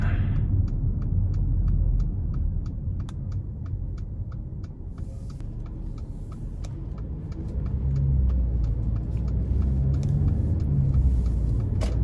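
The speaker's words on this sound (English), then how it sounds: "I really like how this drives in eco mode. It actually drives really smoothly." A 2017 Mercedes-Benz GLA 250 cruises in eco mode, its low engine and road rumble steady from inside the cabin, swelling slightly toward the end, with a regular light ticking running throughout.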